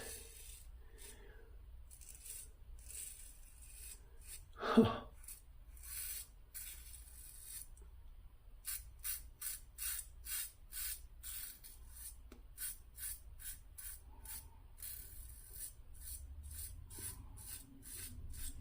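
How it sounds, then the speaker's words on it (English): Steady rhythmic scraping of a Yaqi aggressive slant razor across stubble, a rapid series of short rasping strokes close to the mic, with one sharper louder stroke partway through. "We're now shaving with a slant razor here on the left side."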